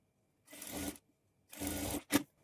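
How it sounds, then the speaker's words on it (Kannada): Sewing machine stitching a zari border edge on a blouse, heard in two short half-second bursts of running stitches followed by a brief thump, close and fairly quiet. "ಈ ಥರ ಸ್ಟಿಚ್ ಮಾಡಿಕೊಂಡು"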